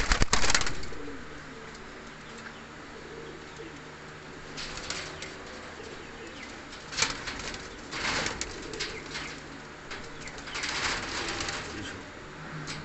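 Ferozpuri and Banke breed pigeons cooing in breeding pairs, soft repeated coos over a low background hum, with a few louder fluttering bursts and rustles scattered through.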